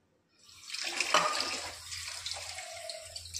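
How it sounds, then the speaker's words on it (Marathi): Water pours into a pot of Indrayani rice and kidney-bean mix, a steady splashing stream that starts abruptly and runs on, close and moderately loud. "त्याच्यानंतर आपल्याला जेवढं पाहिजे तेवढं पाणी आपण ओतून घ्यायचं त्याच्यामध्ये"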